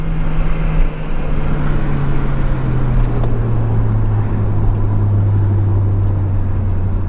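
Mazda MX-5 Miata on a racetrack during its final lap in light rain, engine droning steadily and loud throughout with a slowly falling pitch, with constant road and wind roar around it.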